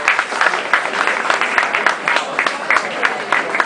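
Clapping from an evening festival crowd in Bonarcado, Sardinia, for a musician, a fairly close, rhythmic patter of hands with a few stronger accents, running steadily for several seconds.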